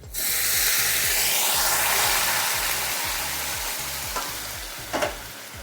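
Hot water is poured into a hot pan of village-style fish curry with kochu, setting off a loud steady hiss and sizzle that slowly settles. A couple of clinks come near the end.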